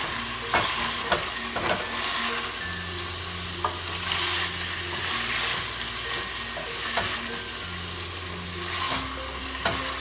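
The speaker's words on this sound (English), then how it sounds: "Gently mix that all together." Potatoes and sauce are stirred in a sizzling frying pan, with a spoon scraping and clacking in irregular strokes over a steady close fry, and no voices.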